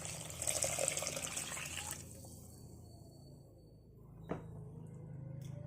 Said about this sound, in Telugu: ఒక గ్లాస్ బియ్యానికి 2 గ్లాసుల వాటర్ యాడ్ చేయాలండి.